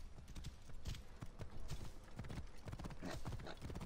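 Hooves pound in a quick galloping rhythm, close and steady, with a horse snorting partway through, in the video game Assassin's Creed Origins.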